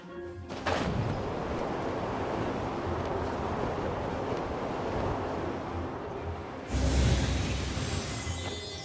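Wind current in Genshin Impact blows as a steady broadband rush, with a sudden onset near the start and a louder gust swelling later on.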